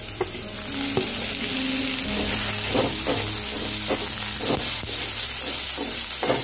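Carrot and red capsicum sautéing in a hot pan, a constant loud sizzle with a spatula scraping and stirring at irregular intervals, close up and with no talking.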